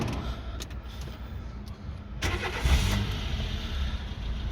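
A 2009 Dacia Sandero with a 1.4 MPI engine running on gas and petrol, idling steadily with an even rumble at close range after a brief starting surge, with no voices.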